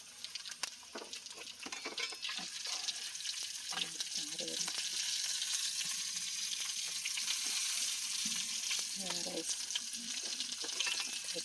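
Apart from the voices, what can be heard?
chicken frying in oil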